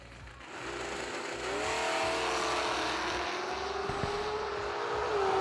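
Drag racing cars, a Datsun and a Trans Am, roar at a summer drag strip event, a sustained engine drone with rising revving tones heard from a distance, no talk.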